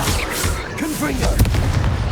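Confringo fire blast spell in Hogwarts Legacy, a booming burst with crackling impacts arriving partway through, over continuous loud game ambience and a brief gliding tonal effect.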